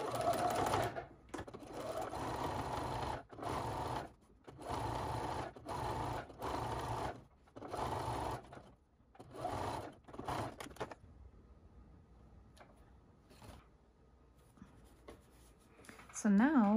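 A sewing machine stitches a doll dress in several bursts of steady rapid whirring, each lasting a second or two and separated by brief pauses, before the machine goes quiet and only faint handling sounds and a voice remain near the end.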